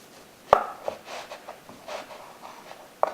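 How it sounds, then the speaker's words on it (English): A knife cuts through a loaf of pesto bread, with a sharp thunk at the start, soft crusty crunching and scraping after it, and another knock of the blade on the board near the end. "Now I'm going to slice it in half."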